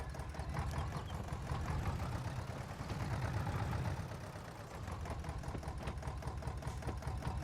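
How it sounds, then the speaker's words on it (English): A video game tractor engine in Farming Simulator 22 idles steadily throughout, a low mechanical putter with rapid regular knocks that carries on unbroken for the whole stretch. "Oh, I love this tractor already."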